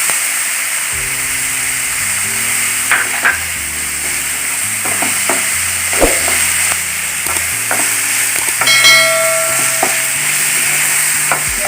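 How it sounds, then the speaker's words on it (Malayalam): Sliced onions sauté with salt in a hot pan, giving a steady close sizzle broken by scraping stirs, while soft background music plays underneath. "ഉപ്പുപൊടി കൂടി ഇട്ടിട്ട് നന്നായി ഒന്ന് വാട്ടിയെടുക്കാം സവാള നമുക്ക് പെട്ടെന്ന് വാടി കിട്ടാനായിട്ട്"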